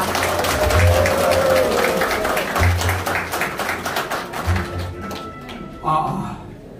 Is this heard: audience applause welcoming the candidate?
yes